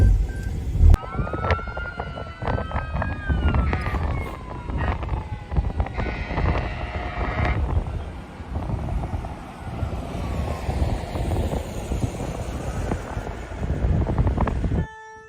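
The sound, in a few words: tornado siren blaring near Omaha, Nebraska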